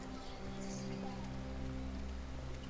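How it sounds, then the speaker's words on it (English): Steady rain pours down in a scene from the video game Detroit: Become Human, a constant hiss under a low hum, with no voices. "rain is pouring down her face."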